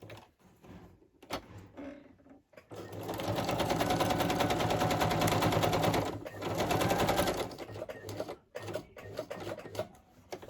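A sewing machine runs a zigzag stitch in a craft project, whirring steadily for about five seconds with a rapid mechanical patter, framed by quieter handling noises before and after.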